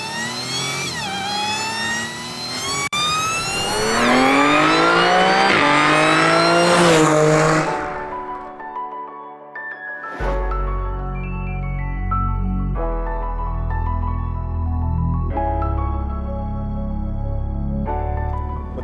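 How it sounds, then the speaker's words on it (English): A supercharged 2012 Audi S4 with over 500 hp revs hard, its engine note and supercharger whine climbing loudly through the gears, then settling into lower, steady cruising tones between shifts. "a lot of supercharger whine"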